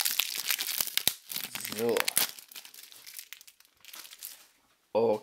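Plastic shrink wrap being torn and crinkled off a rap album fanbox, with close crackling bursts over several seconds and a final loud rip, while someone speaks briefly.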